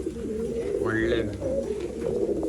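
A pigeon offered for sale at a market in Bangalore gives a drawn-out cooing call mid-clip, heard under steady crowd chatter and background voices.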